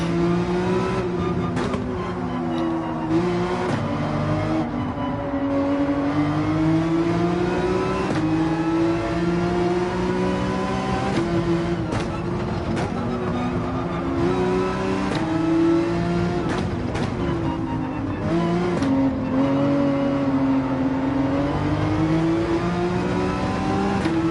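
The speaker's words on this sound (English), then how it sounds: "The 911, you're revving out second gear, revving out third gear." A Porsche 911 in Gran Turismo 7 revs hard through second and third gear during online racing. The engine note climbs steadily and stays loud and close throughout, with no talk over it.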